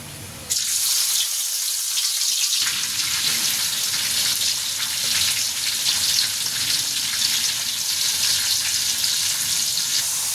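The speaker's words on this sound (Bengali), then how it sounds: "পেঁয়াজ মরিচগুলো একটু ভালো করে ভেজে নেব" Chopped onion, chili and garlic drop into hot oil with a sudden loud burst of sizzling that then holds as a dense, steady crackle, close up, with no voices.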